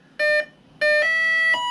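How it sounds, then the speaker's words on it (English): A 200 amp electronic speed controller in an RC boat beeps during setup: two short, clear electronic tones, then a longer multi-tone beep sequence, sharp and close in a quiet room. "When it beeps twice, let go to the neutral range. Then it's going to beep like that."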